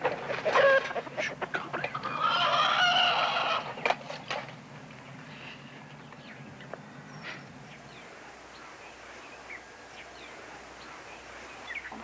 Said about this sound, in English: It was a shame for little Joe to kill a pretty little chicken like this one.